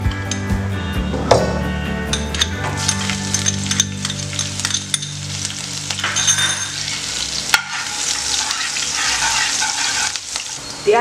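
Dried red chilies, garlic and chopped green chili frying in hot oil for dal khichdi, a loud, close, continuous sizzle with a few clinks and scrapes of stirring and no talk.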